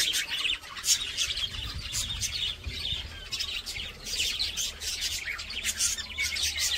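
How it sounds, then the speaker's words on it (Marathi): Colorful birds at a resort chirp and tweet continuously in short, bright overlapping bursts over a soft outdoor background, moderately close and without talk. "त्यांची किलबिल सुरू आहे."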